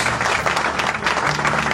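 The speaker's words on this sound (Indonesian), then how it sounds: "Kita berikan tepuk tangan untuk Tuhan Yesus." A congregation at an Indonesian morning prayer service applauds for Jesus, filling the room with thick, continuous clapping at full strength.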